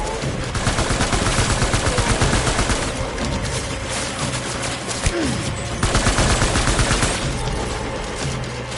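Rapid automatic gunfire from the Death Stranding video game on PS5, dense sustained bursts of shots firing back to back for several seconds, loud and close, with brief lulls between volleys.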